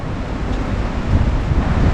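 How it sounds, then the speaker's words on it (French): Strong storm wind gusts roar loud and steady into the microphone outdoors, swelling louder partway through, with no voices. "Très gros coup de vent, des très violentes rafales."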